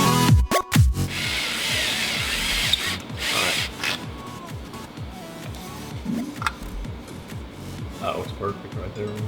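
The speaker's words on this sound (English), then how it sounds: "We got the hole drilled." A power drill bores a hole for a car's turbo oil return fitting, its whirring grind running steadily through most of the stretch, with brief louder bursts near the start and people talking over it.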